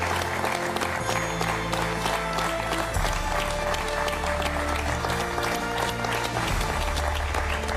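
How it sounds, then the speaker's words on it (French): A studio audience on the cooking competition Top Chef claps for a contestant leaving the show. The steady applause is mixed under loud backing music with a pulsing beat and continues throughout. "On peut applaudir, je crois, à Logan qui quitte la compétition aujourd'hui."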